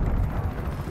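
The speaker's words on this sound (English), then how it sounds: "C4 going out." A C4 charge detonates in Call of Duty Black Ops Cold War, a brief, dense low boom with rumbling tail filling the moment.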